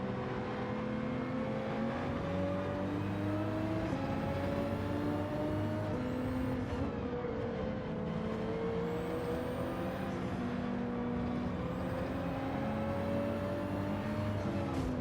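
A race car engine in Gran Turismo 7 drones loudly and continuously, its pitch rising and falling as the car accelerates and brakes through corners, with no voices.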